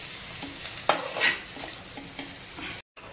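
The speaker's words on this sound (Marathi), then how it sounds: "तर आपण हा व्यवस्थित असा मिक्स करून घेऊया कारली" Bitter gourd (karela) sabzi with masala being stirred in a pan, a close sizzle with scraping strokes of the spoon, a couple of louder scrapes early on, and a brief gap near the end.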